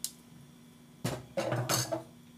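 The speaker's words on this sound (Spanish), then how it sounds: "Vamos a revolver muy bien." A utensil scrapes and clinks against a bowl while carrot salad with lemon is mixed, with two or three short, close stirring bursts and no talking.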